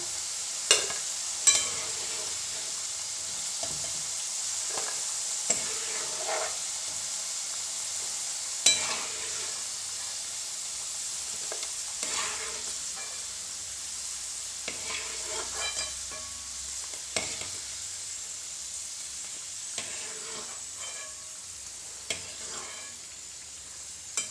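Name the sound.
potatoes frying in oil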